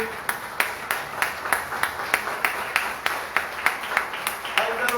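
A church congregation claps in a steady rhythmic beat, loud and continuous, a dense wash of hands keeping time together.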